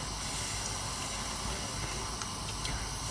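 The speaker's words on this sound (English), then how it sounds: "So this is now going to simmer away" Minestrone soup simmering in a pot on the stove, a steady soft hiss and faint bubbling that carries on evenly without a break.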